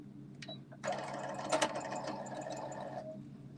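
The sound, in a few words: sewing machine stitching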